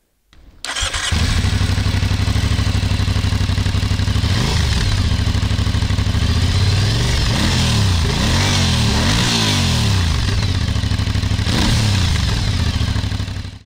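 An Aprilia Shiver 900 motorcycle engine starts up close and loud, then is revved repeatedly, its pitch rising and falling in several sharp surges over a rough idle.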